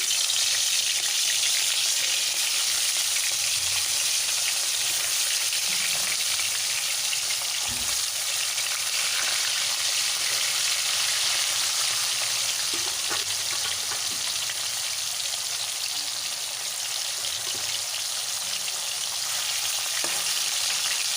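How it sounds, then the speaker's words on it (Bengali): Katla fish pieces rubbed with salt and turmeric fry in hot oil in a wok, a loud, continuous, dense sizzle that holds steady for the whole stretch with occasional faint clinks. "কড়াইতে তেল গরম বসিয়ে আমি মাছগুলো এবার ভেজে নেবো"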